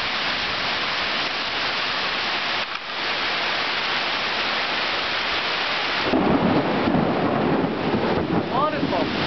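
A heavy rainstorm in Singapore roars as a dense, steady wash of rain with rumbling low thunder and wind buffeting the microphone, growing louder and harsher toward the end.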